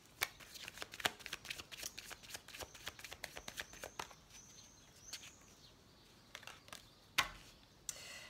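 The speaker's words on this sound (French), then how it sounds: "j'ai fait la coupe et en même temps, il y a une carte qui a sauté" A deck of tarot cards being cut and shuffled by hand, giving a quick series of soft close-up riffles and snaps with a few sharper card flicks.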